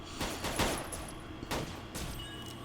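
Gunfire from a gunner character's weapons in the online fantasy game Aion, a few sharp shots in quick succession followed by spaced bursts, loud and close over a steady game soundtrack.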